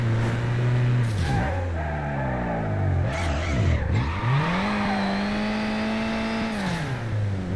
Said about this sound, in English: I really was expecting this car to have more of like a Rombbb sound